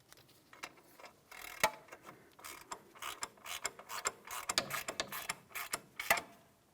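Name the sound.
ratchet tightening ball joint mounting nut on GMC Sierra knuckle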